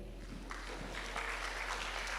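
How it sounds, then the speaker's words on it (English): Audience clapping at a university research conference on media and communication, a soft, fairly distant patter of hands over a steady low hum, continuing evenly and gaining a little density. "So, would you clap for them?"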